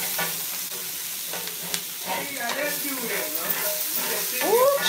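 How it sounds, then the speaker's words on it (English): Butter sizzles and crackles steadily in a hot pan before a T-bone steak goes in, close and continuous, with stirring scrapes and a brief fragment of speech over it. "Okay, so I'm putting some butter down in this bad boy."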